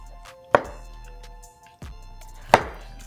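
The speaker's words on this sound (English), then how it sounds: "I'm going to turn this around and basically separate the front of the turkey from the back. It will gently snap." A knife works through a cooked Thanksgiving turkey as the crown is separated from the back, giving two sharp, close snaps of bone about two seconds apart with a softer crack between them.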